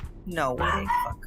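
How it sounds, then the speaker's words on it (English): A dog barks somewhere in the background, short yips and woofs mixed with someone speaking over video game play. "Sorry if you hear your dog barking in the"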